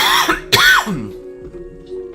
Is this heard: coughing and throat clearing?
yes